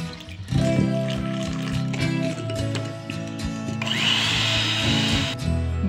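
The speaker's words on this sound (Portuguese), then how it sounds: "eu coloquei na rotação 1 da batedeira, só para misturar mesmo a farinha de trigo" Electric stand mixer on its lowest speed blending wheat flour into cake batter, a continuous motor whir with the beaters churning and scraping the bowl, close and fairly loud, rising brighter toward the end.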